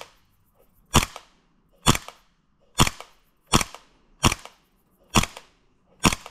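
A gas blowback airsoft pistol fires seven evenly spaced, sharp cracks, each followed by a brief mechanical clack of the slide, loud and close with quiet gaps in between.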